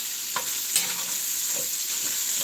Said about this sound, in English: I do the bacon first so that I know it gets a little crispy